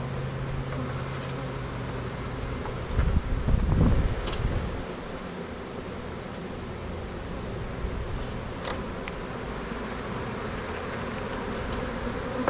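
A honeybee swarm hanging in a tree near a hive box, giving a steady, dense buzzing hum throughout, with a brief louder swell of close wingbeats near the microphone partway through.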